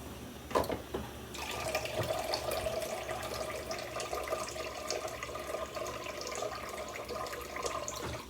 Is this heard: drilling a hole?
no